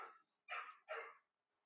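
A dog barks three times in quick succession, close and clear, followed by a short faint trailing sound.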